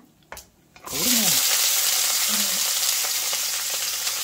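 Onion and green chilli tipped into hot oil where seasoning has already spluttered, setting off a loud, sustained sizzle right after a brief clatter, close and steady to the end for a Tamil lunch of oil brinjal kuzhambu.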